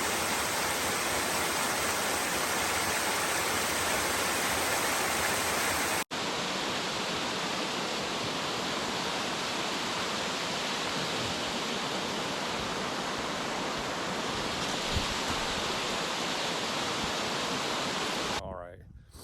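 A waterfall on the Bartram Trail pours in a steady, loud, broadband rush that fills the whole stretch with no pauses.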